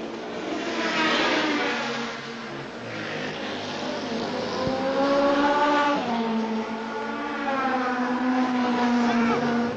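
A racing motorcycle engine at the 1977 Bol d'Or endurance race howls close by, revving and climbing through gears with a steady rising whine that swells and shifts as it pulls away.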